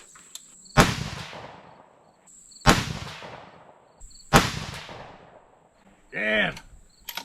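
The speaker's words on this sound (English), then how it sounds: "Let's shoot these, see how they group up." Three loud rifle shots from 6mm Dasha rifle firing 32-grain handloads seated 20 thou off the lands, spaced about 1.7 seconds apart, each with a long decaying echo, followed by a short whirring electronic tone near the end.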